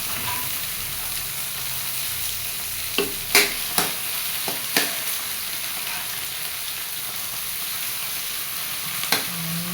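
Onion and tomato sauté in a pan for ginisang monggo, making a loud, steady sizzle broken by a few sharp clicks and spatters.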